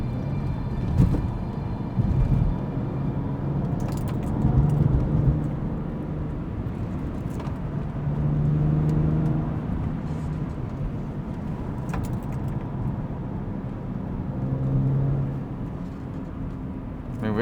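Engine drone and road rumble from a BMW 135i on a winding oceanside road, taken at speed through corners, with the engine note rising and falling in several surges across the stretch.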